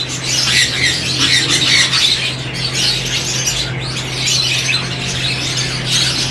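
A pair of sun conure parrots in a breeding setup with a cooling-pad system give a constant chorus of shrill, overlapping squawks and screeches, close and loud, over a low steady hum.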